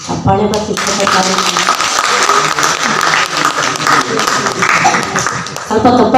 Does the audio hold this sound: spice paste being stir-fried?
no